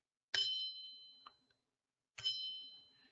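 A metal scraper struck twice, each hit giving a bright, sharp ring that hums on and fades slowly, separated by a short silence.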